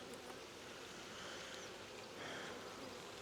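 Honeybees at a queenless hive during an apiary inspection, a dense steady buzzing swarm close by that fills the whole stretch, no voices.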